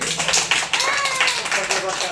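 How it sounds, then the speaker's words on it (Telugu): Children clapping hands together in a classroom, a dense run of rapid claps heard up close, mixed with voices. "ఒక్కసారి క్లాప్స్ కొట్టండి"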